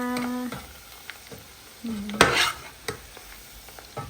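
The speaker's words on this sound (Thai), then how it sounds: "ตอนนี้เราก็ทอดหมูได้สีสวยน่ากินแล้วนะคะ" Pork pieces fry in hot oil with a steady close sizzle, broken by a sharp scraping clatter of a utensil in the pan midway and a few small knocks; a brief voice hum sounds at the start.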